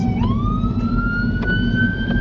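An ambulance siren sounds loudly on the road as it approaches and passes, a long rising wail that holds steady over heavy engine and road rumble from inside a car.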